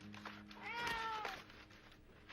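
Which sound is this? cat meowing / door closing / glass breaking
cat meowing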